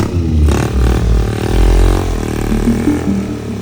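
A motorcycle engine revs hard and loud while climbing a steep dirt trail, rising and falling in surges with some clatter of the bike over rough ground, no talk over it.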